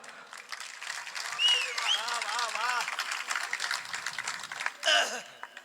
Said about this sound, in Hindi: ये पंडित आभारी है आपकी प्रत्येक ताली का, पर इन छुटपुट तालियों से ठहाकों का कारोबार नहीं चलता।